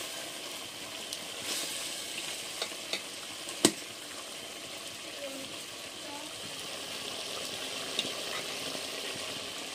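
Chicken curry sizzles in a pan, cooked without added water or oil after its water has boiled off, as it is stirred. A steady, fairly quiet frying hiss runs throughout, with a few sharp clicks from the spoon.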